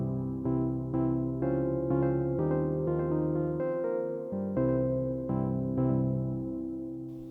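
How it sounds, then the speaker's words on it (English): A Roland S-1 synthesizer plays a Rhodes electric piano-like patch, sounding sustained chords in a steady, rhythmic pattern with repeated notes. The tone is warm and clear and runs for several bars with no voices. "Today I'm doing a tutorial for a Rhodes Piano-esque patch"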